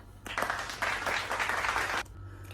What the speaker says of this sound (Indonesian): Oke anak-anak, boleh beri tepuk tangan untuk Rara.